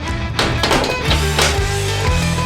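The heavy door of a giant baking oven swings shut with a dull thunk and some tapping and rattling against a steady, loud background hum.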